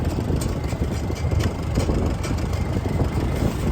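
A Farmall M tractor engine idling: a steady low rumbling drone, close and continuous with no change in pace, alone without talk.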